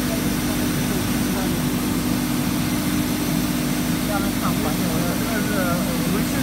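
An oil-free screw air compressor runs in a compressor room with a loud, steady mechanical drone and hum that never lets up, and a voice speaks faintly over it.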